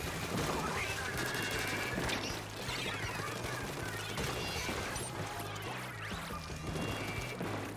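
Splatoon auto bombs exploding in a hectic video game battle, dense overlapping blasts and splats over steady game music and effects, loud and continuous.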